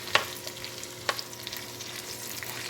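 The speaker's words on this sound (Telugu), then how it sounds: "ఆయిల్ హీట్ అయిందండి పచ్చిమిరకాయలతో సహా బెండకాయలన్నీ అన్నీ వేసేసుకుని" Okra and green chilies fry in hot oil with a faint, steady sizzle, broken by a couple of sharp utensil clacks near the start and a few softer taps.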